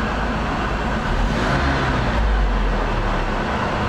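A car engine fitted with a rebuilt 2E carburetor runs at a steady idle, a continuous loud rumble with no talk over it.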